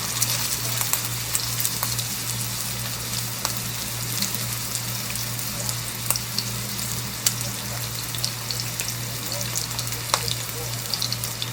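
Thin one-third-pound hamburger patties frying in hot peanut oil, a dense continuous sizzle and crackle with scattered pops and a steady low hum beneath, no talking.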